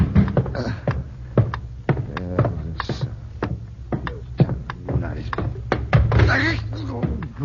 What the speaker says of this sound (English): you were awakened by a pounding at the door